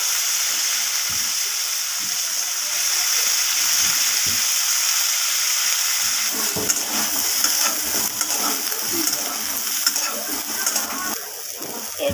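Cut cauliflower frying in hot oil in a pan hisses in a continuous sizzle, with a few light clinks and bubbling crackles joining in partway through; no one speaks.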